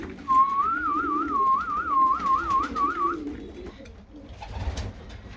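Racing pigeons coo softly in their loft, a low rolling murmur beneath a wavering, warbling whistle that runs for a few seconds, all fairly quiet.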